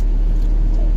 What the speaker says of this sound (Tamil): பெரிய வண்டி போகுதுண்ணே